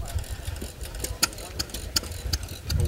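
An antique Stirling engine runs at an antique machinery show, making rapid, uneven ticks and clicks over a low mechanical hum while a person talks nearby.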